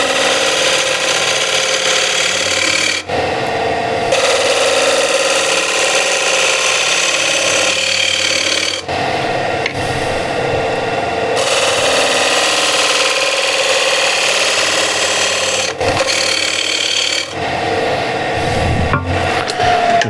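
A lathe spins a wooden workpiece while a bowl gouge cuts it, giving a loud continuous scraping rasp over the motor's hum in several long passes separated by brief pauses.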